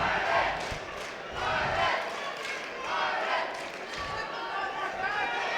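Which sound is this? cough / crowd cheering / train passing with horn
crowd cheering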